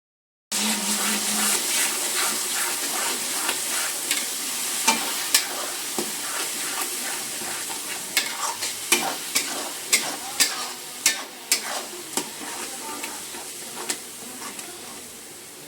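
Oil crackles and sizzles under a masala of tomato puree, turmeric, chili, coriander and fish masala, with repeated spoon scrapes and stirring knocks growing sharper and more rhythmic toward the end.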